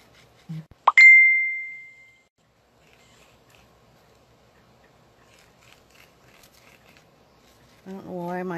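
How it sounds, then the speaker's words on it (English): A phone notification chimes once at a craft table, a bright, clear ding that rings out and fades over about a second, followed by near-silence and then a brief voice. "I don't know why my phone is dinging."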